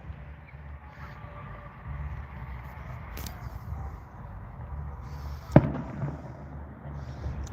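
A fireworks show in Colville, Washington: distant booms and crackles pop off at intervals over a low steady background rumble, with one sharper, louder burst near the end.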